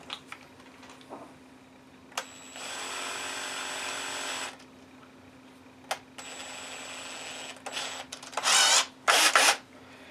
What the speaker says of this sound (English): I'm just going to drill this one first